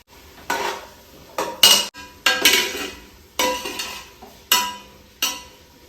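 Vegetables tossed into oil with cinnamon, cloves and ridge gourd, heard as repeated metal spoon scrapes and clanks against the pan, about eight distinct bursts in an uneven rhythm, close and clear with faint sizzling underneath.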